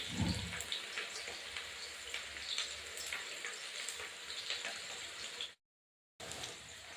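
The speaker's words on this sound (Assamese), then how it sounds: "কেৰাহীত দিয়া তেলখিনি গৰম হ'ল, গৰম হোৱাৰ লগে লগে পিঁয়াজখিনি দি দিয়া হ'ল।" Onions frying in hot mustard oil in a wok, a steady soft sizzle and crackle that runs continuously, fairly faint, with a brief dropout near the end.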